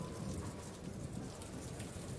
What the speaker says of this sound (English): outside there is a huge rainstorm that begins to downpour